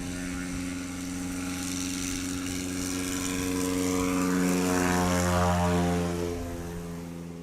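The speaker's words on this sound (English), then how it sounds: "And here's Jerry Clemens taxiing up to the line." Small STOL plane, a Husky, taxiing up to the line at Patriot Airpark in Oklahoma during a practice event, propeller engine droning steadily and swelling louder as it nears, with a continuous harmonic hum.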